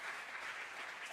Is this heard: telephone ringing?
no